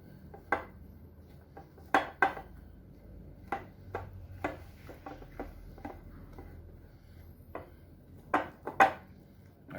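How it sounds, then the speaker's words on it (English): A spoon stirs corn muffin batter mixed with sharp cheese in a bowl, giving a string of irregular clinks and knocks against the bowl, moderately close and heard alone. "I'm going to stir these all around."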